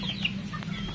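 A young F1 pullet on a farm gives a brief soft cluck over a low steady background hum, close and fairly quiet.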